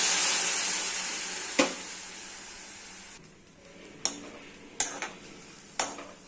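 Half a tumbler of water is poured into a pan of sautéed onions and curry leaves, and the loud hiss fades to a quieter simmer broken by several sharp clanks of a spoon against the pan.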